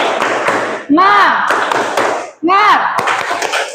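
A class group claps in rhythm for a spirit cheer, sharp hand claps sounding in quick bursts with voices shouting between them.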